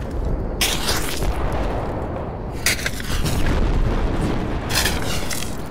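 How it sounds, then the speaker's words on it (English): Mortar shells exploding in the Project Reality tactical shooter on the Xiangshan map, three heavy booming blasts spaced a couple of seconds apart over a dense rumbling battlefield backdrop, loud and close. "Mortar, mortar."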